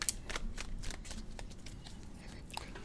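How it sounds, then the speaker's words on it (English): A tarot card deck is shuffled close up in a quiet room, with a quick run of crisp riffling and papery flicks that repeat for a few seconds. "2 shuffles, Sagittarius."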